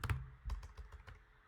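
Quick, close keystrokes on a computer keyboard come in an uneven burst of soft clicks and thumps, with no talking.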